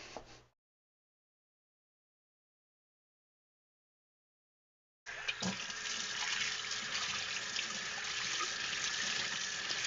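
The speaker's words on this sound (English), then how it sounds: "I will rinse this mop out" Water from a tap runs steadily over an aquarium sponge mop being rinsed, a broad splashing rush that starts partway in after near silence and carries on close and loud to the end.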